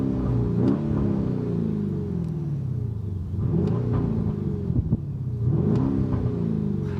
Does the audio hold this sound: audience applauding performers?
no